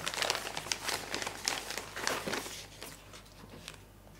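Plastic packaging of a Kyosho Optima RC car kit crinkles and rustles up close as it is opened, a busy run of crackling handling noises that gradually softens, with no speech.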